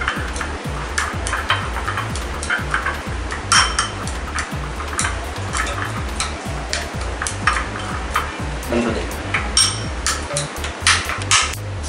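A spoon scrapes and clinks against a bowl while spiced aloo tikki potato mixture is stirred, making repeated close metallic taps and mushy scraping in an uneven rhythm, with no talking.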